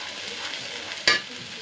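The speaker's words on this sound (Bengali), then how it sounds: "এবারে সবগুলো একটু ভালো করে কষাবো।" A ground green chilli and cumin masala paste for prawn malai curry fries in a pan, giving a steady soft sizzle with one brief louder scrape of stirring partway through, close by and without voices.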